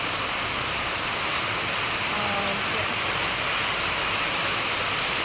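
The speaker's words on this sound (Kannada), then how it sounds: "ಬಟ್ ಈಗ ಸಡನ್ನಾಗಿ ಮಳೆ ಬರ್ತಿದೆ." Sudden rain falls in a dense, steady hiss of drops on surfaces, loud and unbroken throughout with no distinct individual patters standing out.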